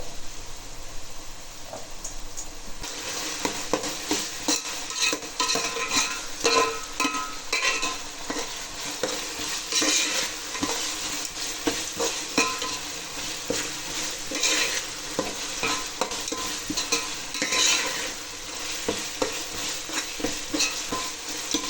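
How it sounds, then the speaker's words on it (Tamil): Onions sautéed with ginger garlic paste in a pan for crab gravy, giving a steady, close sizzle with repeated scraping and stirring strokes of a spoon against the pan bottom throughout. "நல்லா வதக்கினதுக்கப்புறம் இஞ்சி பூண்டு பேஸ்ட் போட்டிங்கன்னா நம்ம பாத்திரத்தில் வந்து ஒட்டாது"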